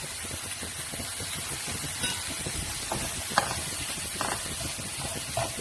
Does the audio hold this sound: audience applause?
no